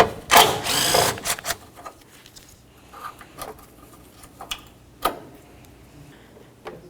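Power tool zipping out 10mm bolts near the radiator and AC condenser of a 2003-2007 Honda Accord: one loud close burst of under a second, followed by scattered clicks and ratcheting taps.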